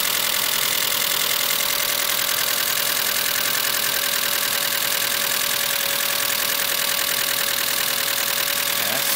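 A Mitsubishi Galant VR4 engine runs loudly and steadily with a rough, droning idle and a high-pitched whine over it, continuous throughout with no voices.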